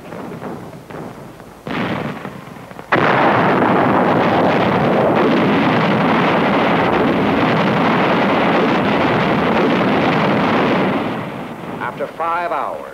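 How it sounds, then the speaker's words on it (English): Wartime artillery fire near a front line in Italy, a heavy, continuous rumbling barrage that swells in loudness and holds steady for several seconds, rough and booming like archival newsreel sound. "Our own artillery was brought to fall within 100 yards of our front line elements."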